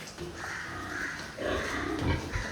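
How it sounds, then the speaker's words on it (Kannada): Piglets on a pig farm grunt and snuffle at close range while drinking water, with short overlapping squeals and louder bursts near the end. "ನೀವು ಮರಿಗಳೆಲ್ಲ ಹಿಂಗೆ ನೀರು ಕುಡಿಯೋದು, ಹಂದಿ ಮರಿಗಳು ಇದೇ ಥರ"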